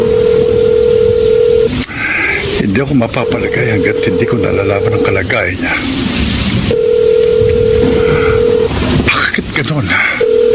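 Steady electronic phone dialing tone from a mobile call, sounding in long stretches that alternate with someone speaking over music.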